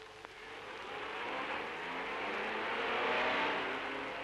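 A car drives past at moderate distance, its broad whooshing engine and tyre noise rising gradually and peaking near the end, with no talk.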